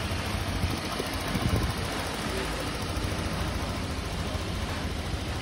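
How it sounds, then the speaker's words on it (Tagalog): After an overhaul, a Honda Click 125 scooter engine idles quietly and steadily, a low, even hum under a constant hiss with no voices. "Tahimik na po ang makina niya."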